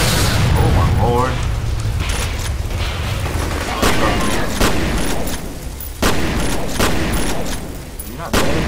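Loud bursts of shotgun fire from the first-person shooter F.E.A.R., several sharp blasts spaced irregularly amid ongoing game noise and a player's voice.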